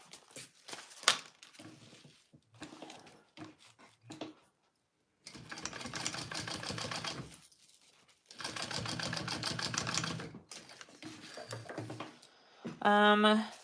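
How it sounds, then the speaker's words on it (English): A sewing machine bastes the base of a handmade bag in two long loud runs of rapid stitching, separated by quieter handling noises and a person talking. "I'm gonna baste that first, and then I will add my lining."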